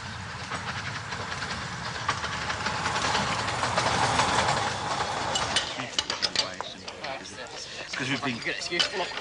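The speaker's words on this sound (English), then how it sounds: "one of the most picturesque little steam trains, threading its way up into the hills from the seaside village" A little steam train on the Ravenglass railway rumbles and clatters along continuously, rail clicks and mechanical rattling building to a steady roar then breaking into irregular knocks and clanks.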